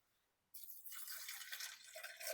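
Water pours into a pressure cooker holding toor dal and peanuts for dal dhokli. The pour starts abruptly after a brief quiet moment and continues as a steady, close splashing gush.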